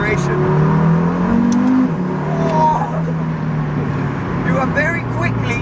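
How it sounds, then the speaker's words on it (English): A KTM X-Bow GT-XR, a 500-horsepower street-legal race car, accelerates hard, its engine note climbing and dipping through gear changes, heard from inside over steady road and wind roar. "cue some acceleration"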